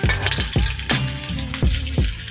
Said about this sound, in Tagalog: Atin muna i-fry ng half cook ang sibuyas.